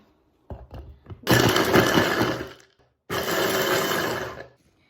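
A blender whirs loudly in two bursts, chopping chocolate sponge cake and roasted peanuts into chunky pieces that rattle, preceded by a few light knocks.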